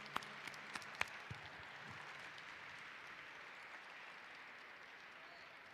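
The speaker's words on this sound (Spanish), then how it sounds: "Yo quiero que le brindemos un gran aplauso a Sandra" A room full of people applauds steadily, a few sharper claps standing out at first before settling into even clapping.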